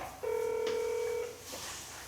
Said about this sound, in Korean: 스피커폰으로 전화 한번 해봐.